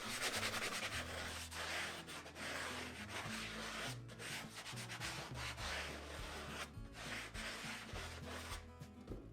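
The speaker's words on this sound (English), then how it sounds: "I'll take some 120 grit sandpaper and just smooth it up a little more" A concrete fire bowl being smoothed by hand with 120 grit sandpaper, continuous close rasping strokes in a steady back-and-forth rhythm, fairly quiet with no talk.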